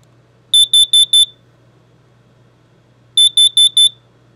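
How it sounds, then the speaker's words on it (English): An RV propane detector's test alarm sounds loud and close, two bursts of four sharp, piercing beeps separated by a short pause against a quiet background. "I could push on the test button and it'll give a really, really loud alarm, and that lets me know that it's working."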